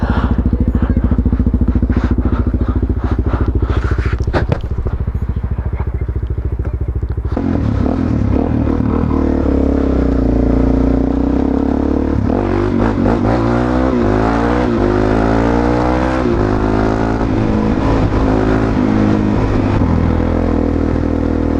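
A Suzuki DRZ400 motorcycle engine idles with a steady low thump, then is revved repeatedly, its pitch climbing and falling in loud, close bursts that continue to the end.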